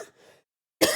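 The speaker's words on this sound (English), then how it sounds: "Why am I coughing so much?" A single sharp, loud cough bursts out close up after a brief soft breathy rasp and a moment of silence, during a Rainbow Six gaming stream.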